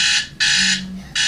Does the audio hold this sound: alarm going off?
yes